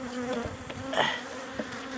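Starving honeybees buzz continuously at close range at their hive, a dense droning hum with individual insects whining past, no talking.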